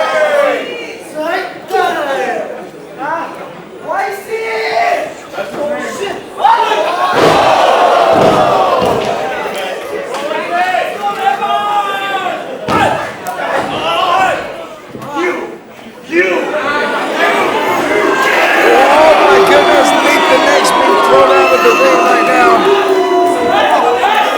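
A wrestling crowd at a tag team title match shouts and cheers in surging waves, with thuds of bodies on the mat and voices talking over the noise.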